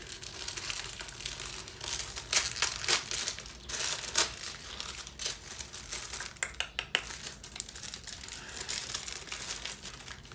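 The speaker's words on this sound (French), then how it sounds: "Déballage en direct main." A package is unboxed by hand after being cut open with a small cutter, giving close, continuous crinkling and rustling of packaging with sharper tearing and crumpling bursts, and no talking.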